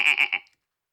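A person imitates a goat's bleat with a voice: a short wavering, nasal bleat of about half a second, made of three quick pulses, close and fairly loud, then silence.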